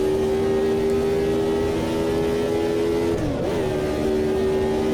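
A race car engine in the Automobilista 2 sim racing game drones loudly at a steady high pitch, then the tone drops sharply as the car shifts up into fifth gear and climbs again, with no voices.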